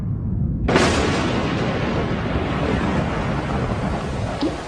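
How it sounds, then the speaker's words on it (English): A thunderclap cracks in, then heavy rain pours steadily with a deep rumble underneath, loud and continuous. "As thunderstorms rocked the skies, the rain began to fall on the rocky surface below."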